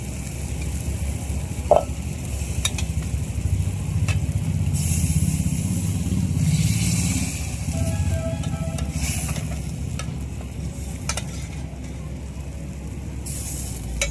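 Cooked mutton is added to a simmering red curry gravy, producing a steady low sizzle and bubbling with occasional sharp clinks of a spoon against the pot, close and continuous without talk.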